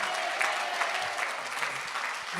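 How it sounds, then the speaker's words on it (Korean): A church congregation claps continuously in a dense, steady round of applause at a New Year revival service, filling the room evenly throughout. "계속 주님께 박수하십시다"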